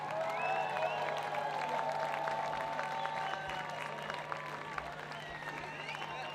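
Audience applause at a live French-language show, a steady wash of clapping with a few voices and shouts mixed in, fairly distant and moderate in level throughout, with a constant low hum underneath.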